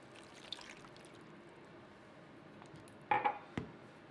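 Water pours into a blender holding cashew paste, nutritional yeast, onion and garlic for a vegan cashew pasta sauce, a faint steady trickle followed by a few short louder knocks near the end.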